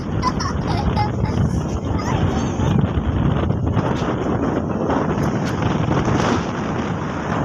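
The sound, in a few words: strong wind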